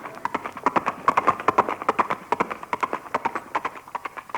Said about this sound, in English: No, that's Granny, the Wonder Horse.